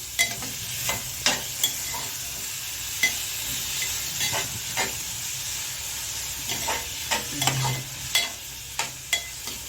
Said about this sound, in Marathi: टोमॅटो याच्यामध्ये व्यवस्थित नरम होईपर्यंत परतवून घ्यायचं आहे